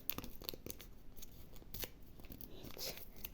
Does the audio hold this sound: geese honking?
no